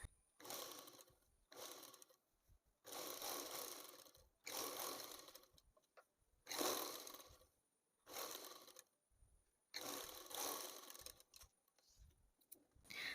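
A sewing machine stitches the side slit of a churidar in repeated bursts of steady whirring, each a second or two long, separated by short pauses, close and fairly quiet, with no talking.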